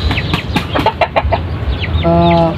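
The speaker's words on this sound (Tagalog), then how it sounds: "Rhode Island, dalawa, tatlong Chinese chicken." Rhode Island and Chinese chickens clucking nearby in short bursts, several birds overlapping, with one drawn-out loud squawk near the end.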